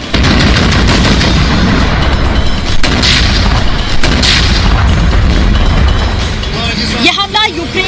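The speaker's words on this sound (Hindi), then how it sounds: "इसके बाद ताबड़तोड़ हमले किए जाते हैं।" Artillery strikes on a Russian military convoy crossing a bridge, a loud, continuous barrage of booms and gunfire that fills the whole stretch, with dense rumbling blasts and a shift to sharper crackling near the end.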